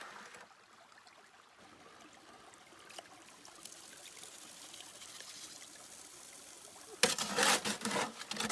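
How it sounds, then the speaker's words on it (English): Creek gravel washed through a sluice box while gold mining in the fall, making a steady soft trickle and stream of water that turns into a louder, splashier rush of pouring water near the end. "I'm going to try pushing that through the sluice box and see if get any gold out of it"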